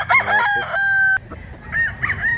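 A rooster crows loudly and close by in a rural Cebu yard, with one long sustained call followed by further crowing and clucking from surrounding fowl.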